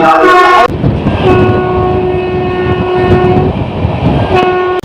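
An Amrit Bharat Express train's loud, sustained horn blasts close by, cutting off and sounding again, over the steady roar and clatter of the rails as it overtakes another train.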